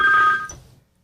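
A phone rings indoors, one short electronic ring that cuts off and fades into silence, loud and close, with no talk over it.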